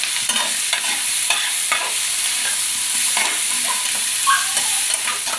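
Ground spices including coriander powder and Kashmiri chilli powder fry in a pan for dhaba-style chicken with peas, sizzling loudly and continuously while a spoon scrapes and stirs in steady close strokes.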